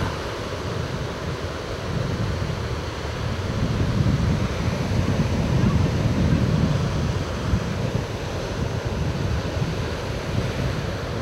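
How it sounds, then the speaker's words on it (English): Ocean waves surge and break at a Big Sur beach in Molera State Park, a steady broad roar of surf with wind across the microphone, swelling in the middle and holding loud throughout. "Here comes a wave."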